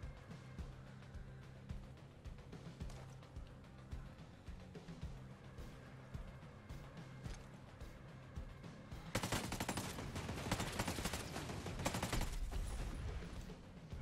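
Turret gunfire in Ghost Recon Breakpoint: steady, fairly faint bursts of shooting run throughout, then turn louder and denser near the end as heavy automatic fire comes closer, with no one talking.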